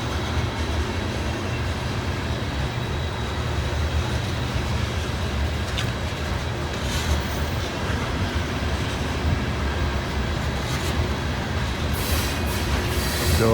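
A train rumbles past on the rails with a steady, loud, broad roar that lasts throughout, with faint wheel squeals near the end and no talking.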